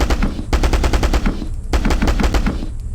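Rapid automatic fire from a Spartan rifle in a Halo mod, two loud sustained bursts of fast, even shots separated by a brief pause, close and dominant.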